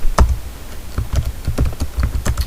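Keys clack on a computer keyboard in a quick, irregular series of close, crisp taps with short pauses between clusters, heard alone with no talk over them.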